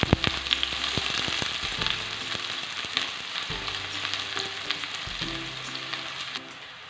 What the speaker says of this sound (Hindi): प्याज फ्राई हो रहा है और अपना कलर भी चेंज कर रहा है।